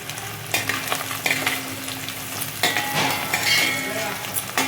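Chili powder being stir-fried in a pan for a home-style paneer dum biryani, with steady close sizzling broken by repeated scraping strokes of a spoon against the pan.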